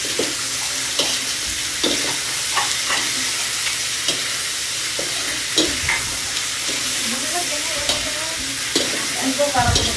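Hotdogs fry in a pan with a steady hiss of sizzling fat, broken by repeated clinks and scrapes of stirring and some popping near the end.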